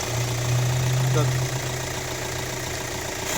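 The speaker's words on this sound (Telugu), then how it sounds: "ఇంజన్ వ్యూ ఇంజన్ సౌండ్ కూడా తక్కువనే ఉంది" A 2016 Hyundai Creta SX(O) engine idles steadily with a low, even hum and faint mechanical ticking, heard up close with the bonnet open; the tone stays smooth and quiet throughout.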